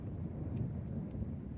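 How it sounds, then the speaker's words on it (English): Low, steady thunder rumbles from an approaching storm, faint and distant, with wind noise throughout. "I can hear that thunder now. It's definitely getting a bit closer."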